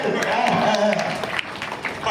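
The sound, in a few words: audience applause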